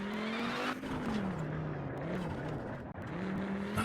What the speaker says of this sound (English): I'm bouncing, skidding, sliding down